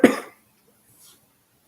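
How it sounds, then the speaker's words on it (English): A single sharp cough sounds close at a poker table, a brief loud burst that fades quickly into near silence. "Excuse me about that cough"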